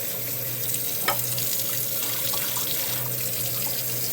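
Tap water runs steadily into a sink while dyed silk is rinsed under it, a continuous close hiss and splash with a brief louder splash near the start.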